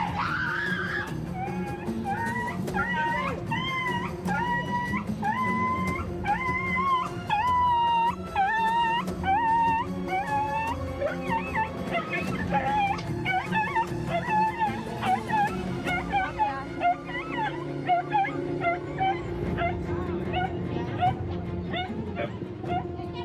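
An injured pet dog, its leg slashed with a machete at a house in Hernandarias, whimpers and yelps in rising and falling high-pitched cries over a continuous background hum, sustained and fairly loud.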